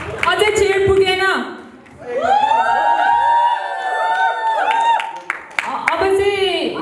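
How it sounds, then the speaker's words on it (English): A wedding reception crowd at a Nepali celebration claps and cheers in a sustained burst, with music-like tonal sounds and voices mixing in, fairly loud and close throughout. "huge round of applause for both of you"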